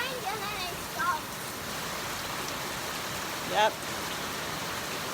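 Steady rain falling in Ghana, a constant hiss of moderate rainfall that fills the whole clip, with a few brief spoken words over it.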